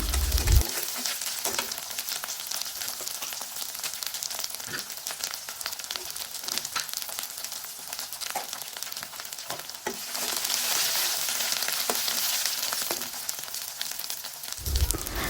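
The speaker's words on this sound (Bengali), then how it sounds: "এই সবগুলো উপকরণ দিয়ে আবার একটু কষিয়ে নেব" Tilapia fries in a pan with turmeric, chili powder and cumin, giving a dense continuous sizzle with frequent crackles and stirring scrapes, growing louder partway through, and no talking.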